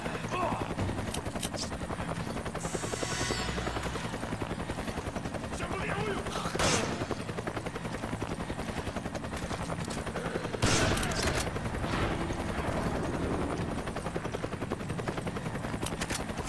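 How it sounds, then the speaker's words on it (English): Bursts of gunfire from Resident Evil 5 over a constant helicopter-like rotor drone, with sharp shots scattered irregularly throughout. "Gunfire."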